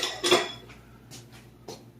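Metal dishes and a baking pan clatter in a home kitchen while pizza crust is made: a sharp clank first, then a few lighter scrapes and knocks spaced over two seconds, fairly close and quiet.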